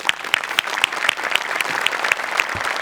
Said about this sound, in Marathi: हा एकदा जोरदार टाळ्या माझ्यासाठी झाल्या पाहिजेत.